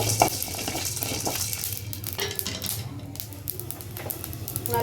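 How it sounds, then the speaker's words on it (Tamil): Dried red chilies and coriander seeds fry and crackle steadily in a small amount of oil in a home kitchen pan, with a dense continuous sizzle and occasional spoon scrapes, no talking. "நல்லா பொரியிற சவுண்டுக்கு வருதா?"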